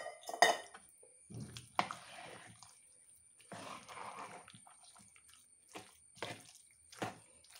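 Jackfruit pieces drop into a pot of cooked beans and plantain, making wet plops and several distinct knocks of a utensil on the pot, spaced out with quiet gaps between them.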